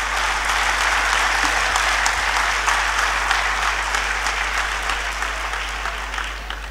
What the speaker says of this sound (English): I think they particularly deserve a round of applause even before I speak.